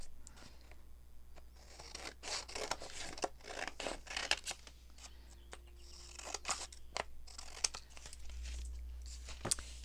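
A paper page is torn by hand for a junk journal, with quiet rustling, crinkling and ripping strokes that come in irregular bursts throughout, soft and close.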